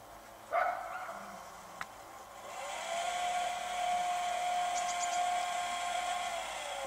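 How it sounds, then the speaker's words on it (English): A solar tracker's small electric motor, driven at its 12-volt maximum, spins up after a couple of faint knocks into a steady, thin whine that holds level as the panels turn. "So now I'm gonna crank it to the maximum of the 12 volt and you will see how the panels will turn."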